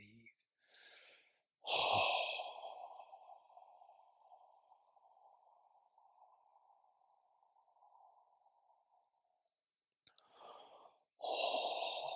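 Deep breaths are drawn in and released slowly with relief during a meditation session, sharp inhales followed by a long soft hollow exhale, near and quiet, with a short pause before the next breath.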